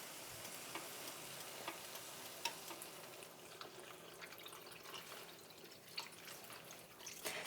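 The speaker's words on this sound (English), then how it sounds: "I'm gonna pour this beautiful seafood stock right in here." Seafood stock for a bouillabaisse pours into a pot with a steady, soft splashing and dripping of liquid, fairly faint and continuous, with no one talking.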